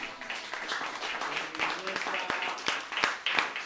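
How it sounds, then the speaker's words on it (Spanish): A small gathering claps for brother Walter, a soft patter of hand claps heard faintly under a voice talking over it. "Demos un aplauso fuerte al hermano Walter"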